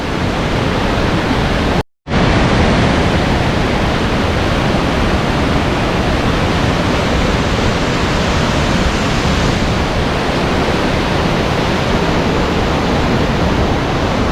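Thompson's Falls at Nyahururu roars as a loud, continuous wall of falling water from close by, unbroken except for a momentary dropout near the start.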